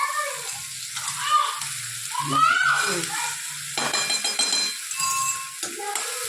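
Garlic and onion sizzle in hot oil over a lowered gas flame while pav bhaji is made. The crackle is steady and bright, broken by stirring and clinking of a spoon against the pan.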